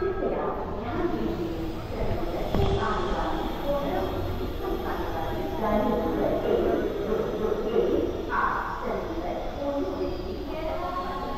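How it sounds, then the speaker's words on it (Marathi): The Mandavi Express stands at Ratnagiri railway station, a low rumbling train presence with clanks and station bustle, while someone talks over it and other voices mingle nearby. "गाडी लागली मांडवी एक्सप्रेस."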